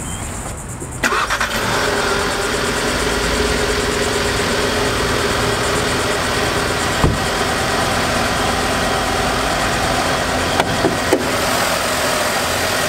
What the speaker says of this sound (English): get the engine cranked up and hear how it sounds